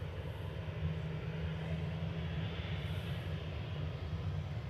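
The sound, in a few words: Ryanair Boeing 737-800 jet departing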